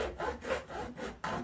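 Hand saw cutting into the slot of a painted wooden house door, five or six rhythmic rasping back-and-forth strokes, close and fairly quiet, with no talk.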